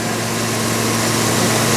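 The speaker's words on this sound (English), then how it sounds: "The engine is shaking" A car engine runs steadily while a solenoid is commanded on, with the engine shaking. The idle is a continuous low hum with a strong steady drone and no talk over it.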